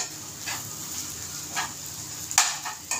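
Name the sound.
dried shrimp (sukat) and potato frying in a pan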